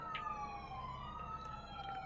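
A wailing siren with drawn-out, slowly shifting tones, steady and fairly prominent, with no one speaking.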